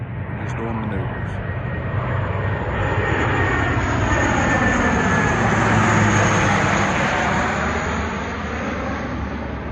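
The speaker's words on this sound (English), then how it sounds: "Here we go again, C-130 coming in." A C-130 propeller aircraft flies low overhead during maneuvers, a loud continuous droning engine roar that swells and sweeps in pitch as it passes, with someone talking beneath it.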